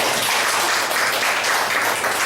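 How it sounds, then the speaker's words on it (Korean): Church congregation clapping in a steady, dense burst of applause, loud and unbroken through the short stretch with no talking. "박수가 있으면 참 좋겠습니다."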